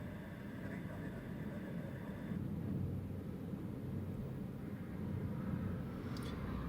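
An aircraft approaches to land at Newcastle Airport into a storm headwind during Storm Eowyn, a continuous low engine roar blended with dense wind rumble at moderate distance.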